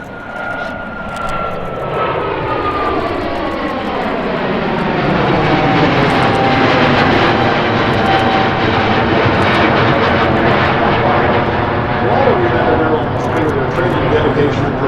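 A United Airlines Boeing 777 flying a demonstration pass at the EAA AirVenture Oshkosh 2022 airshow, its loud jet roar swelling and sustained as it passes, with radio chatter and speech underneath.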